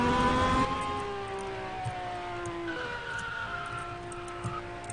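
A car engine in the game Vehicle Simulator revs loudly with rising and falling whines as it shifts, and tires squeal briefly at the start.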